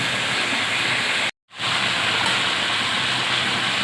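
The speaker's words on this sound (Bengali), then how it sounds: "এবার আমি এর মধ্যে ফুলকপি দিয়ে দেবো" Fried cauliflower tipped into a sizzling vegetable curry gives a loud, steady hiss that cuts out abruptly for a moment, then rushes back and carries on evenly.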